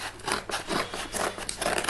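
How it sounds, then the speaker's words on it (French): Close, continuous crinkling and snipping of scissors working through a parcel's wrapping, with bursts of rustle throughout and no voices. "je prends les gros ciseaux de la maison"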